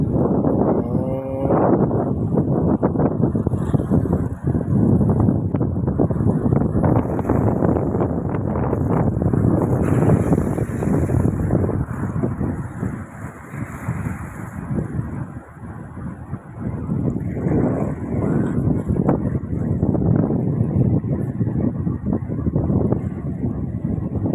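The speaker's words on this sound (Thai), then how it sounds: "วันนี้ลมแข็งขึ้นใหญ่" Strong gusting wind at sea, roaring steadily into the microphone with a low rumble that may include a boat engine, loud and continuous throughout.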